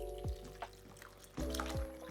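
Water poured over soybeans in a bowl to soak them, a couple of short soft splashes and trickles close by against a quiet kitchen background.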